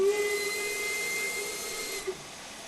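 A steam locomotive whistle in the train simulation game Train Sim World 5 gives one sustained, steady hissing tone of about two seconds, then cuts off into a brief puff.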